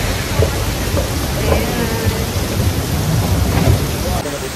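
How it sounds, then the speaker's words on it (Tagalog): Heavy rain pours outside on the way to Changi Airport, a dense, steady hiss of rainfall with faint low rumbles underneath, loud and continuous. "Ang lakas ng ulan sa labas."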